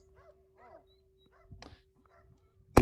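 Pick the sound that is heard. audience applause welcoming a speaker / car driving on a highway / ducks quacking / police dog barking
police dog barking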